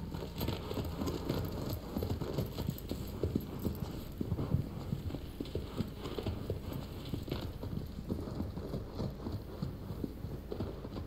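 Horse hooves clip-clop steadily through the whole stretch in the Shadow of the Colossus video game, a continuous moderately loud trotting rhythm over a dense background of game ambience with no talk.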